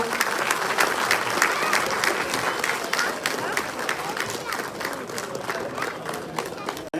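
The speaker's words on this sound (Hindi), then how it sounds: "बहुत बहुत धन्यवाद, जोरदार तालियां" An audience at the CSS Day 2023 event at the Ambedkar International Centre in Delhi breaks into hearty applause, a loud, continuous roar of many clapping hands with crowd murmur mixed in, steady throughout.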